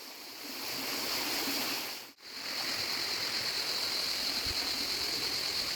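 A small waterfall and stream pour into a pool in a steady, full rushing hiss, close and constant, with a momentary dip in the middle.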